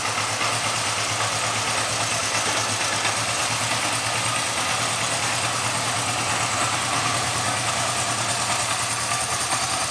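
Up close, a Kawasaki 305 motorcycle engine idles in a steady, even rumble with a constant low throb and no change in pace or loudness, with no talking.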